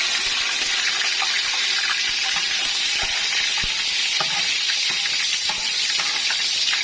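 Onions hitting very hot oil in a pan for tarka rice, giving a loud, steady sizzle and crackle with sharp spattering pops, close up, and no talk.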